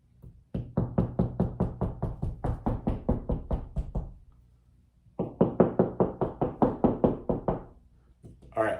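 Knuckles or fingertips rap rapidly on a wall while hunting for studs, two bursts of about a dozen quick, sharp, close knocks each, separated by a short pause.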